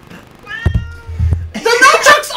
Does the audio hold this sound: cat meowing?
yes